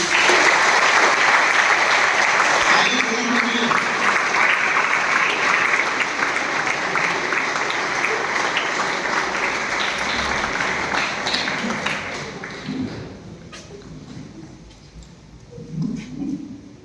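Enthusiastic audience clapping at a results celebration event, dense and loud at first, gradually thinning and fading over about twelve seconds, with a few scattered claps and murmurs after.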